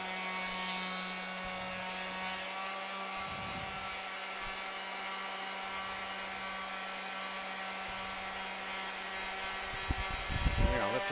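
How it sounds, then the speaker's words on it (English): A power sander runs steadily across oak wood in a constant whirring drone with a faint tonal whine, and a few louder knocks and scuffs come near the end. "We're going to lift the sander up because we just want to hit that one hot spot, that ridge"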